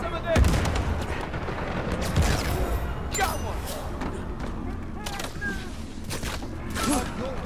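Gunfire in a multiplayer match of the video game Uncharted 4, with repeated sharp shots and bursts in a busy game mix. A player talks excitedly over the shooting.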